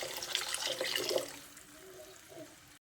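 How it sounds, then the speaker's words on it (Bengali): Water is poured into fried curry masala for a katla fish curry, a close splashing gush that tapers off into a quieter trickle before stopping abruptly. "ঠিক এই পর্যায়ে পরিমাণ মতো জল দিয়ে দিচ্ছি"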